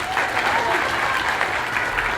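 An audience at a civics bee event applauds with dense, even clapping that stays loud and close throughout the short burst, with a little crowd murmur underneath.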